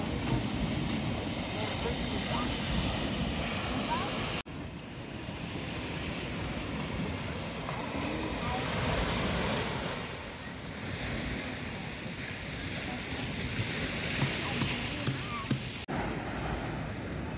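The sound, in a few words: waves on a beach at Nusa Penida, Bali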